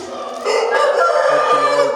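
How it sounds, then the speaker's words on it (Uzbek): A chicken calls loudly and close by, a sustained squawking cluck lasting a couple of seconds. "Mana jo'ja."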